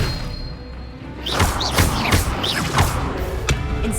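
Hogwarts Legacy spell combat, a run of heavy thuds and whooshing impacts in quick succession, loud and close, with sharp swishing bursts layered over a dense rumbling background.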